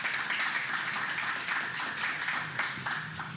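Audience applause at a small speaking event, steady close clapping from a modest crowd that continues evenly for a few seconds.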